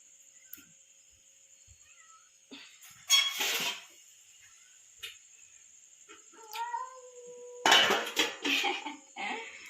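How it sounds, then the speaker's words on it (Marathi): A cat lets out a few drawn-out, eerie yowls amid quiet kitchen clatter of dishes and utensils. "कसला खतरनाक आवाज काढतात मांजर"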